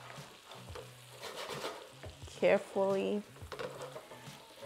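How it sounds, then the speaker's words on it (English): Salmon bites stirred in a frying pan with butter, soft sizzling and scraping of a utensil in short strokes, a couple of brief louder clinks, with a voice speaking briefly over the cooking. "I am going to add in my salmon right in there. Just like that. Give it a little mix."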